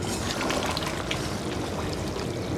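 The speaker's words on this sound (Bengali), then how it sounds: "এখন দিয়ে দিব জল পরিমাণ মতো।" Water poured into a pot of Bengali chicken curry, a steady broadband rush of liquid running without pause, close and fairly loud, with no voices.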